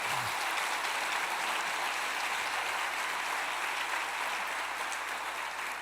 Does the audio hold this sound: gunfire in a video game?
no